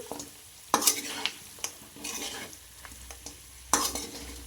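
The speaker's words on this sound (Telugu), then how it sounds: "మిర్చి వేసుకోవాలి లాస్ట్లో. ఇవి కూడా మంచిగా ఫ్రై అవుతాయి." Chicken and green chillies fry in a pan with a soft sizzle, punctuated by sharp spatula scrapes and clanks against the pan at irregular intervals.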